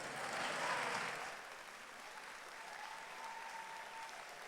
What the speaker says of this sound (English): Turn to face your supporters and a big round of applause.